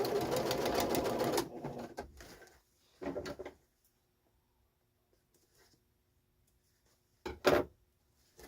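A sewing machine stitches pleats into a curtain panel, one loud run at the start followed by a short burst and another brief burst later, with quiet gaps between.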